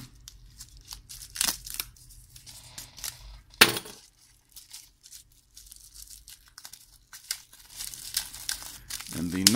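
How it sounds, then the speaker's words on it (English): Plastic packaging holding five circuit boards crinkles and tears in short bursts, with a sharp rustle near the middle and more crackling toward the end, close by, alongside a person talking. "And the not so eco-friendly plastic packaging"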